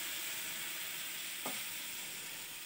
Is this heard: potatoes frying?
yes